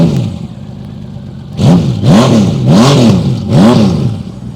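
A motorcycle engine idles low, then surges through four sharp rising-and-falling revs in quick succession, loud and close, with no voices.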